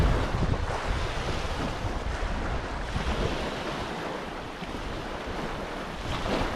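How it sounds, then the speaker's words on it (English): Steady wind blowing by a lake at a campsite, a broad continuous rush with some lapping water, loud and close on the microphone with no talk. "The wind's calmed down a lot."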